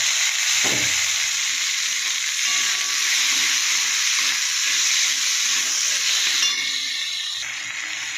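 Constant loud sizzling and hissing as green chilies and tomatoes fry in hot oil with fried onions, with occasional stirring scrapes, no voices.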